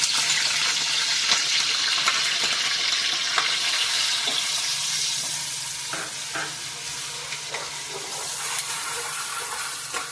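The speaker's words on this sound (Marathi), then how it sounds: "त्यात कढीपत्ता टाकावे। त्यात तेलात फ्राय करून घ्यावे चांगले।" Curry leaves fry in hot oil for a misal pav, a steady close crackling sizzle running throughout with scattered sharper pops and a stirring scrape, no voices.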